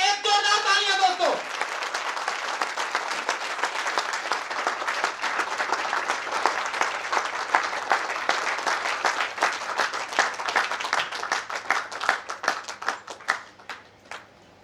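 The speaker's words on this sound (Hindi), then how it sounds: "चलिए नेक्स्ट हमारे लीडर क्लब के लिए एक जोरदार तालियां दोस्तों।" A seminar audience breaks into loud, sustained applause for the leader club, many hands clapping densely and close for over ten seconds before the claps thin out and fade. A voice speaks briefly at the very start.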